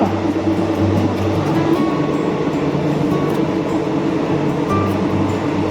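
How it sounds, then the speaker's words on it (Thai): A steady, loud rumble of a moving Buriram–Surin express train carriage, with a continuous low drone and faint rattling, heard from inside, with no talking. "ให้ดูบรรยากาศบนรถไฟ"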